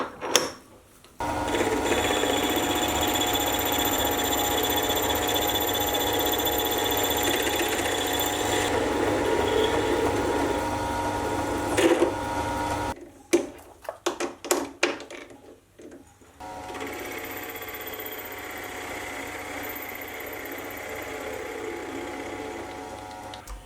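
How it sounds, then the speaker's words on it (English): A mini lathe faces the ends of a 1020 steel bar, a steady machining whir and hum running close and alone, broken by a short stretch of choppy stops and restarts before the cut resumes. "The first thing I'll do is put it in the lathe and clean up the ends."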